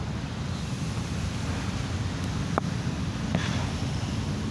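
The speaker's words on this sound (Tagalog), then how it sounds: "Pinakita ko lang sa inyo yung ating dagat." Sea waves wash steadily at Manila Bay on an overcast day, a loud continuous broadband surf roar mixed with wind noise on the microphone and a couple of faint brief clicks.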